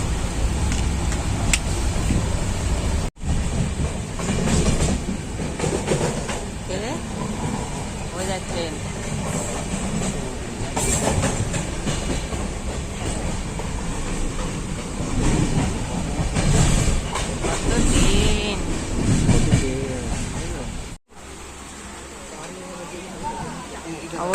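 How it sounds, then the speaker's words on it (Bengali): A train runs into Sealdah station with a continuous loud rumble and rhythmic clattering of wheels over rail joints, heard close from on board, with voices mixed in and a brief drop near the end. "এখন শিয়ালদা ঢুকছে শিয়ালদা নামবো নেমে তারপর আবার লোকাল ট্রেন ধরতে হবে"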